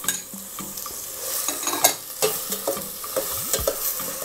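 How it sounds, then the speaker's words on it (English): Vegetables and cilantro sautéing in oil for Puerto Rican rice with ham, a soft sizzle under repeated scrapes and clinks of a spoon stirring the pan, close and without talk. "I'm going to be adding the rest of the vegetables, and I'm going to let it saute"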